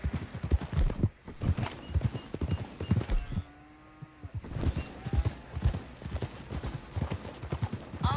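Horses pulling a coach in the game Red Dead Redemption 2, a steady rhythmic clip-clop of hooves with a brief whinny partway through and faint talk in the background.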